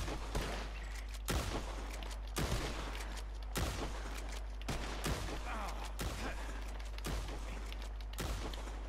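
Gunfire in the video game Red Dead Redemption 2: eight loud, sharp shots spaced roughly a second apart over a steady background hum, with a voice briefly audible.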